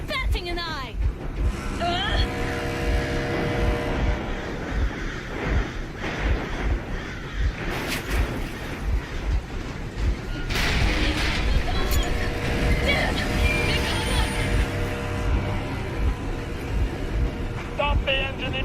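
A vehicle engine runs steadily throughout in the post-apocalyptic game Metro Exodus, a continuous low rumble with wind-like noise on top, while voices talk over it.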